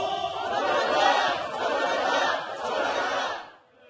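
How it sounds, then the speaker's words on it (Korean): Rally crowd at a street march over the May 18 Gwangju history dispute roars together in an angry collective shout, a sustained mass of voices lasting a few seconds before cutting off. "다른 한편에선 분노의 함성이 울려 퍼졌습니다"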